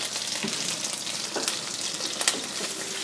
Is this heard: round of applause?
no